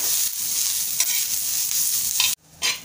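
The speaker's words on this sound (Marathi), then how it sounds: "कांदा आपल्याला लालसर होईपर्यंत छान भाजून घ्यायचा आहे।" Onion and ginger pieces frying in a pan for Kokan-style Malvani chicken, a loud, close, steady sizzle with a few stirring scrapes before it briefly cuts out and resumes.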